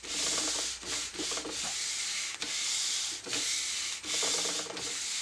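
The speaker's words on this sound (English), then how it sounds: "And then I take the sandpaper and do the same thing again right through the Helix." Sandpaper scrubs back and forth over cross-country ski skins, making a close, loud, rasping rub in repeated long strokes broken by short pauses.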